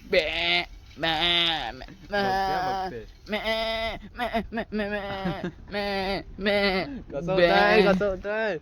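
Goats in a farmyard in Satara bleat repeatedly, their loud, wavering cries coming in a steady run of calls that overlap one another, with no talk between them.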